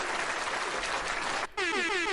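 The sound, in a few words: applause sound effect from a soundboard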